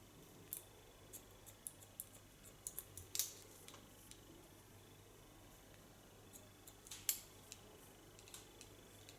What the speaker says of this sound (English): There I go in with the point cut.